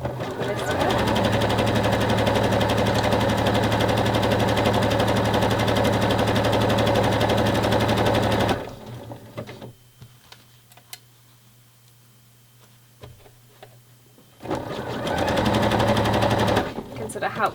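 A sewing machine stitching stretched 12mm elastic onto fabric runs at a steady, loud rattling whir, stops for several seconds of quiet handling and faint clicks, then starts up again.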